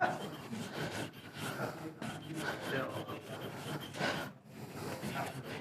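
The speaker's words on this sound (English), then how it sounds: "It sands way different than other finishes." Sandpaper rubbing across a cured cyanoacrylate (CA) finish on a turned wooden piece, a steady close rasping scrape running continuously in repeated strokes with brief pauses.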